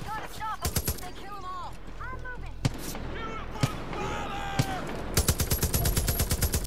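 Sniper gunfire in the video game Far Cry 5: sharp single shots crack out at intervals, ending in a rapid burst of repeated shots, over game music and with a voice talking throughout.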